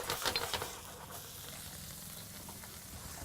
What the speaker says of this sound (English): prawns and our calamari in here